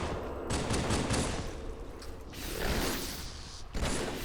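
Pistol gunfire in Halo 2 comes as rapid clusters of shots mixed with mechanical clicks, dense at the start and again later, with short gaps between bursts and no talking.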